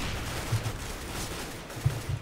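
Gunfire from the game CS:GO, with a few short bursts of shots over a steady background roar, fairly close and alone.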